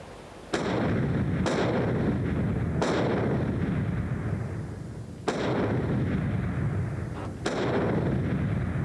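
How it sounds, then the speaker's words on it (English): A handgun fired into a pillow indoors, five heavy, booming shots at irregular intervals, each followed by a long rumbling decay, with no talking. "Then he's to fire into the pillow as a final deadly threat."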